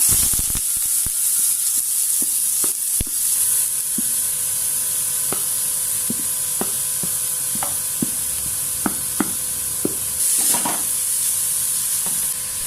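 Sliced onions sizzle in hot oil in a pan as vegetables are sautéed for a pepper-chicken stuffing, a steady bright frying hiss broken by regular scraping and tapping of a stirring spoon.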